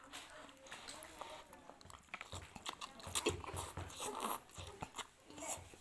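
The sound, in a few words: chewing and biting chicken meatballs (bakso)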